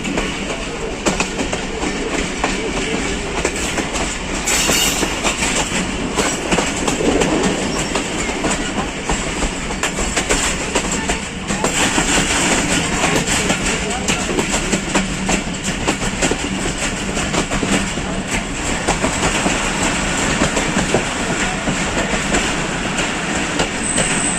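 A passenger train on Pakistan's double-track Main Line 1 toward Rawalpindi rumbles loudly and continuously along the track, with rhythmic clacking of wheels over rail joints and occasional metallic squeals, no voices.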